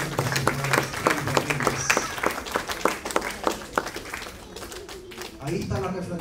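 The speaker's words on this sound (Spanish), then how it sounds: "Denle aplausos." A church congregation applauding after a sermon, a dense burst of clapping from many hands that fades gradually, with voices speaking over it near the end.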